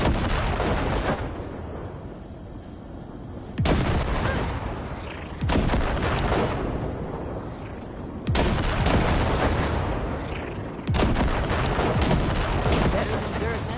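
Heavy sustained gunfire blasting wrecks in the video game Cyberpunk, loud dense barrages that stop and restart several times in long roaring bursts, with no quiet gaps between them.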